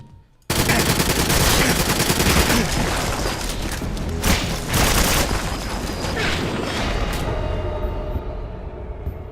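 Dense, sustained automatic gunfire with booming blasts from the video game GoldenEye 007, erupting suddenly and continuing loudly for several seconds with rapid overlapping shots.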